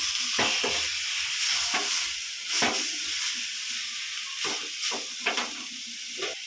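Steady hiss of chili paste sizzling as it sautés in a hot pan, with occasional scraping and stirring clicks, close by and without talk.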